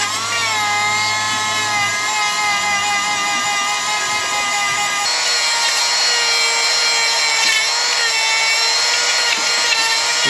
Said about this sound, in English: let's do some Dremeling, right? See if we can save this axle housing.